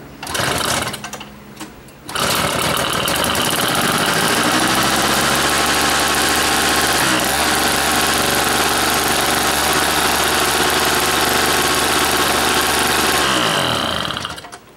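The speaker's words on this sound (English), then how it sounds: "All I did was pull this back, turn the key on, give it a couple of primes with a choke." A small, old, rusty gasoline engine sputters briefly, then starts and settles into a loud, steady, buzzing idle that runs without a break until it is cut near the end.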